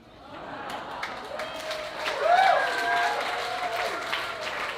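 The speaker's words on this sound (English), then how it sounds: "don't applaud too long" Applause from an audience at an evening celebration event, rising in the middle and sustained at moderate level, with voices and cheering woven through the clapping.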